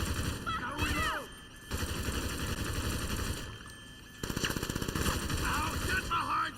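Automatic gunfire in GTA 5 Online rattles in dense bursts, with a steady, rapid machine-gun stream toward the end, over game noise and shouted voices.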